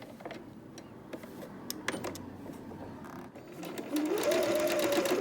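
A sewing machine stitches folded bias tape for bunting in a steady run of needle whirring that rises in speed and loudness toward the end, heard close with some light handling noise.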